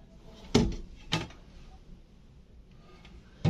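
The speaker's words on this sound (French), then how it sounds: "Bien conçu, avec tiroir." Kitchen drawer in a camper van opening and closing, giving three separate sharp knocks or slides spaced a second or two apart, close and fairly quiet.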